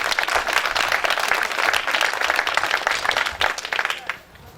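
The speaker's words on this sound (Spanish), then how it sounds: "Dar un aplauso más fuerte a Jesús." A church crowd applauds loudly and steadily at an evangelical service, dense clapping filling the space before fading out near the end.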